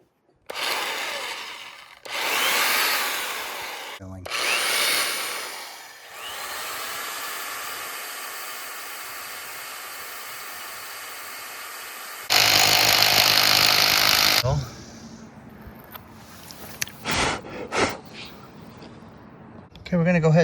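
A rotary hammer drill runs in loud sustained bursts of drilling separated by short pauses, with one especially harsh stretch near the middle, then gives way to quieter clicks and handling noises at the end.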